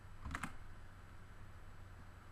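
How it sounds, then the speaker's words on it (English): Two quick keystrokes on a computer keyboard, Control then C pressed together for a copy command, sounding as close, soft clicks near the start before steady quiet room tone. "you're going to select Control on the bottom left of the keyboard and C"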